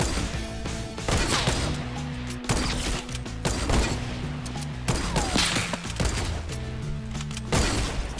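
Hunting rifle shots ring out during a Fortnite Battle Royale match, several sharp loud reports spaced through a dense, busy game mix of crashes and thuds.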